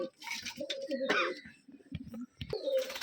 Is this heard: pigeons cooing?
yes